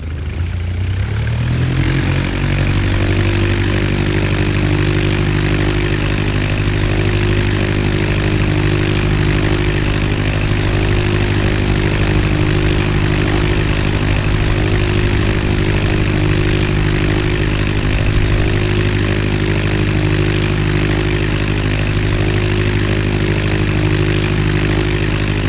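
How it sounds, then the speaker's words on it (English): A 90-horsepower Curtiss OX5 V8 piston engine in a simulated Curtiss JN-4 Jenny biplane starts up and settles into a loud, steady droning roar with propeller hum, continuous and close, without talk. "Let's power up our Curtiss OX5 V8 piston engine."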